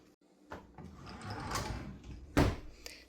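A kitchen drawer holding cooking utensils, a can opener, a pizza cutter and a food scale slides and bumps shut, with a soft scrape early on and a sharper knock near the end in a quiet room.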